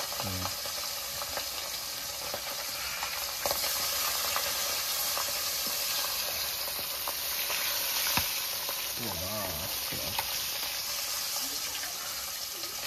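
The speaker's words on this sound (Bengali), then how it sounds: "ও মাছটা ভেজে নিক" Silver carp pieces fry in hot oil, a steady crackling sizzle with occasional stirring clinks and faint water running nearby, continuous and close throughout.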